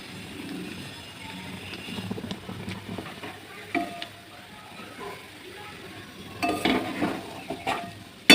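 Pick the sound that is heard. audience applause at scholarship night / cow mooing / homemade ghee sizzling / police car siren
homemade ghee sizzling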